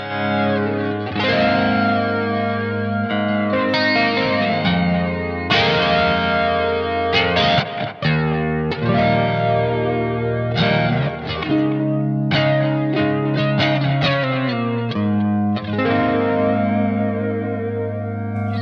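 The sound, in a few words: electric guitar through Blackstar AMPED 2 chorus flange effect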